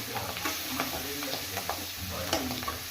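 Mint and chicken livers and gizzards sizzling and frying in a pan, with steady hiss and repeated stirring scrapes throughout, close and fairly loud, no talking.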